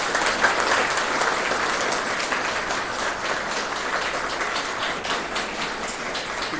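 Sustained, dense applause fills a room as a selected railway NTPC exam student is welcomed at a coaching felicitation ceremony in India, steady, loud clapping from many hands throughout.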